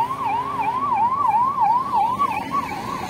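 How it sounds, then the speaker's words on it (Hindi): An ambulance siren wails at a city road junction by Hockey Chowk in Rourkela, a steady fast up-and-down yelp sounding loud and continuous over traffic rumble, with no talk. "वहाँ से एक एम्बुलेंस भी आ रही है गाइज इस तरफ से"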